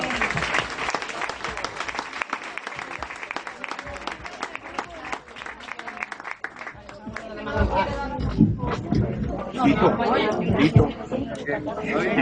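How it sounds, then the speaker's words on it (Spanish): A church congregation applauds and cheers loudly, with clapping building into a roaring swell of voices and shouts near the end. "Dele un aplauso al Señor."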